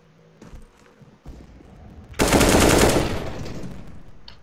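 Video-game gunfire: a few soft thumps, then a sudden loud burst of rapid automatic shots lasting under a second before fading into a ringing tail.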